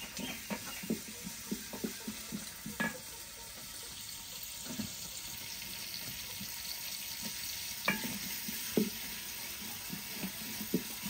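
Bay leaves and onion frying in a pan over a village clay stove: a steady crackling sizzle with irregular scrapes and clinks of a stirring utensil, fairly close and without talk.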